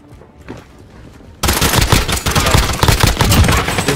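Akimbo M19 pistols firing in a video game, rapid continuous bursts of close, loud shots that start abruptly after a quiet opening.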